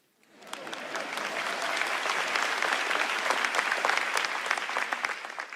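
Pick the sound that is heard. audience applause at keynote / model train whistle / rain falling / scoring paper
audience applause at keynote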